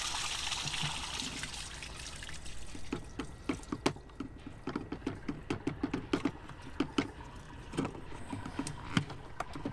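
Liquid waste from a Thetford-style RV cassette toilet on a Revel RV pours into a dump hole as a steady trickle, broken by irregular glugs and splashes as air vents, loud and close throughout.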